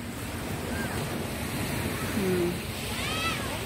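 Continuous rushing surf at Calibuyo Beach with wind blowing across the microphone, a broad steady wash, while a faint voice and a cat-like cry surface briefly.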